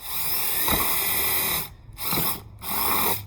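A power drill bores holes into plant pots that came without drainage holes, in three bursts of whining, grinding drilling separated by short pauses, close and fairly loud with no talk.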